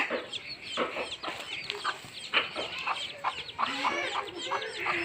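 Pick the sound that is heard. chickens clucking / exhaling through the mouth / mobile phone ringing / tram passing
chickens clucking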